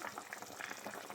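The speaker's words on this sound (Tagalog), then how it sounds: "Kumukulo na siya." Faint bubbling simmer of tinola soup with chicken, water and papaya in a pot over raised heat, soft irregular pops and gurgles over a short moment.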